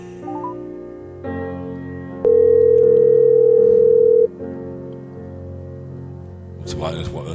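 A telephone call waiting to be answered: a steady loud ringback tone holds for about two seconds amid background talk and a low hum, with clicks at the start and a noisy burst near the end.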